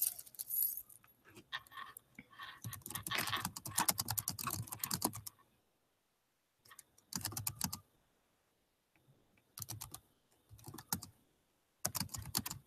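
Someone types a question on a computer keyboard. Quick, close runs of key clicks come in bursts of a few seconds, separated by silent pauses, with no talking.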